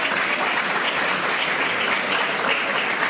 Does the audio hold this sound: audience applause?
yes